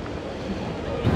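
Steady broadband wind roar buffeting the microphone at Circular Quay on Sydney Harbour, with low rumbling gusts that swell toward the end.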